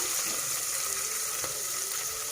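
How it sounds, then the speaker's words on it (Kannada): Mixed vegetables frying for sambar in a home kitchen pan, heard as a steady close hiss and sizzle with faint scraping as they are stirred, no voices. "ನೀಟಾಗಿ ಫ್ರೈ ಮಾಡ್ಕೊಳ್ಳಿ. ಆವಾಗ ಈ ಥರ ಆಡಿಸ್ಕೊಳ್ತೀನಿ, ಇಲ್ಲಾಂದರೆ ಅಡಿ ಹಿಡಿದ್ಬಿಡುತ್ತೆ."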